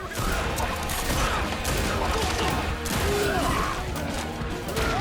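Gunfire and fighting from a Borderlands movie scene: a loud, dense barrage of shots, crashes and impacts, with music and effects layered into a constant chaotic clamor throughout.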